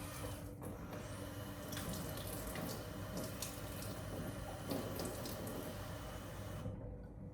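Warm water runs steadily from a kitchen tap into a bowl for mixing rye dough, a constant splashing hiss for several seconds before cutting off abruptly near the end.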